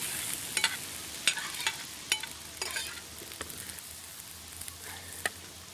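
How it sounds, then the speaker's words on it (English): Curry with slices of raw unripe mango cooking in a pan on a beach, giving a soft steady sizzle with scattered light clinks and stirring scrapes, moderately close and with no voices. "we'll let that simmer away for about 20 minutes"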